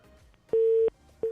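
A telephone busy tone on a radio call-in line after a caller is disconnected: loud, steady beeps with short pauses between them, heard alone.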